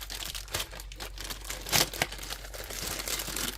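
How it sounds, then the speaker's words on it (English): A plastic bag being cut and torn open to get at packed straps, giving a close, continuous crinkling and rustling with a sharper tearing burst near the middle. "let's get this bag cut open and see what our straps look like in here"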